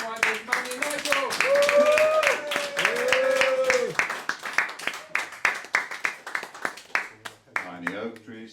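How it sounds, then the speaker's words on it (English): An audience at a folk festival claps for performers Mandy and Nigel. Scattered claps run under speech and a few sustained musical tones, thinning toward the end. "Big round of applause for the latest writers, Mandy and Nigel."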